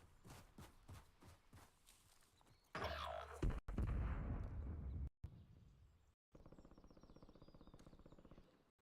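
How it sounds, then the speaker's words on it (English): Gunfire and an explosion behind the player in an online shooter game, heard as a sudden roaring burst of blasts and crackling shots that fades, then a steady rattling rumble, moderately distant and without talk. "They're shooting in behind us."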